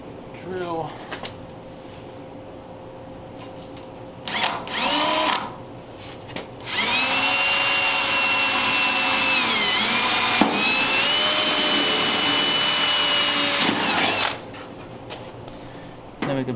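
A power drill bores through sheet metal on a Sweet Heart Roadster firewall flange: a loud, steady whirring grind lasting several seconds, with short bursts of drilling and shop noise before it.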